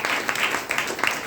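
Audience applause at a network marketing seminar, a short burst of many hands clapping at steady loudness with a few sharper claps standing out.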